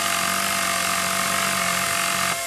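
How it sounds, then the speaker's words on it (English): In the video game Battlefield: Bad Company, a handheld power tool repairing a broken vehicle gives off a loud, steady mechanical buzzing drone that holds evenly, then stops abruptly near the end. "That's the power tool you've got there. Hold on to it. You can use it to fix any broken vehicles."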